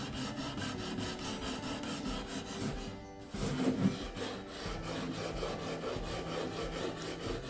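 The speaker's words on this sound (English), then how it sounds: "Do a little hand sanding" Steady rasping strokes of hand sanding on an old wooden milking stool, quiet and close, running continuously with a brief pause partway through.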